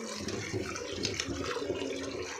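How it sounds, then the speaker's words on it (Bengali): Chopped pumpkin and potatoes are rinsed under running tap water, a steady close splashing and sloshing of water over vegetables in a container, short and moderately loud with no talking. "ভালো করে ধুয়ে নিই"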